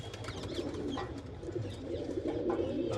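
Wild pigeons coo continuously near a home where pigeons nest with their chicks, a steady, dense layer of soft, throaty calls with no voices over it.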